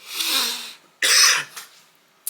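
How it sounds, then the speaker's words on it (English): Two short bursts of coughing from a single person, close and fairly loud, separated by a brief pause, with a faint catch of breath at the end. "I don't know why I'm coughing"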